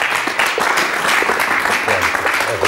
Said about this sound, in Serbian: Jedan veliki aplauz za profesora.